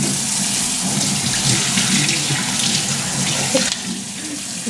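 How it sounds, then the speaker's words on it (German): A tap runs steadily into a sink while hands are washed, giving a continuous close splashing rush with no one speaking. "Du bitte kurz noch deine Hand waschen."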